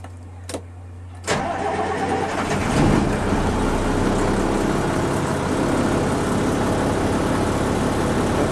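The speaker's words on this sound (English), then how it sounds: "And start the engine." A truck engine fitted with an ignition switch cranks briefly, catches and settles into a loud, steady idle close by, with a couple of sharp clicks beforehand, at an airfield in Kandahar.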